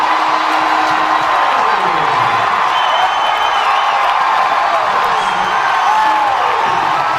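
A roaring baseball crowd cheering after a walk-off home run, heard as a replayed broadcast: dense, loud, sustained cheers and whoops with whistling, no break in the noise.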